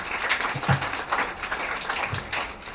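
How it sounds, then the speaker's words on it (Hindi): An audience gives hearty applause for a village woman being honoured, a dense steady patter of many hands with a few sharper claps standing out, sustained evenly throughout. "उनके नाम से एक ज़बरदस्त ताली होनी चाहिए।"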